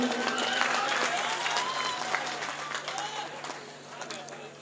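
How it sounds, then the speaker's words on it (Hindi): Audience at a mushaira poetry gathering in Mangal Chowk, Champaran, Bihar claps in a dense, sustained burst of applause that gradually thins out, with voices mixed in. "जरा तालियां बजा दीजिए इनके लिए।"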